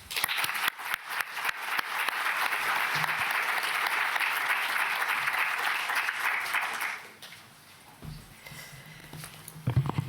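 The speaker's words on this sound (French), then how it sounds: "Je propose qu'on l'applaudisse." An audience at a colloquium on family violence in the Palais du Luxembourg gives a conference speaker a dense, sustained round of applause for about seven seconds, which then dies away into quiet room tone with a few soft sounds.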